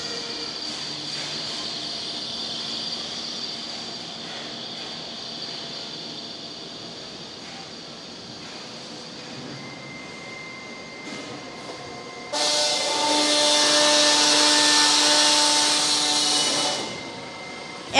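A 2-in-1 step beam and P beam forming machine runs at its forming station with a steady industrial hum and whine, then grows much louder and harsher for about four seconds near the end.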